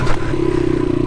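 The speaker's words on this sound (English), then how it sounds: "Like the skid plate on my bike is hitting the lip of that." A Honda XR100R's skid plate strikes and scrapes a ledge in a short clattering knock, and the small engine keeps idling with a steady buzzing drone right after.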